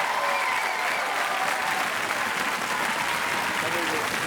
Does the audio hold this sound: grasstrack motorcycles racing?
no